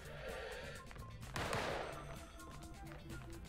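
Gunfire rattles in rapid bursts in the spy shooter Deceive Inc, with a louder blast in the middle and continued shots that stay fairly quiet under the game's background noise.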